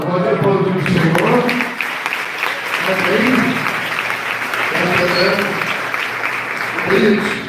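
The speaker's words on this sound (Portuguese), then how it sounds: "Pode aplaudir o Senhor." A church congregation applauding, with steady clapping running throughout while voices speak and call out over it in bursts.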